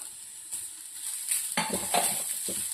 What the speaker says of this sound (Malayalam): ഇതെല്ലാം കൂടെ നമുക്ക് നല്ലതുപോലെ ഒന്ന് മിക്സ് ചെയ്തെടുക്കാം